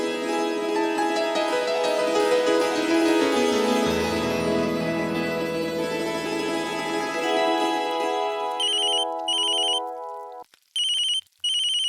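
A telephone rings with a melodic electronic ringtone, loud and close, a sustained tune that breaks into short repeated beeping bursts near the end, with no talk over it.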